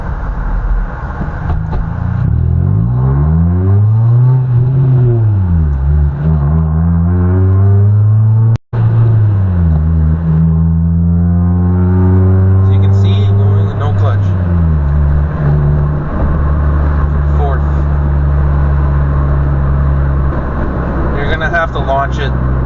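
A manual car driven without the clutch revs up and down, the engine drone rising and falling through several shifts, loud and close from inside the cabin.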